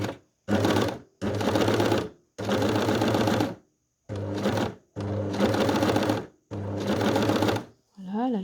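Sewing machine stitching a hem on fabric in several bursts of rapid mechanical whirring, each lasting about a second or so with short pauses between, loud and close, ending with a brief tonal whir.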